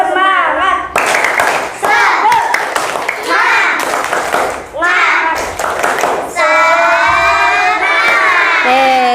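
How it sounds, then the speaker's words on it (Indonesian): Third-grade schoolchildren in a classroom chant loudly and clap in rhythm, with shouted bursts and short pauses between rounds, ending in a sustained shout. "Ayo teman-teman kita tepuk semangat."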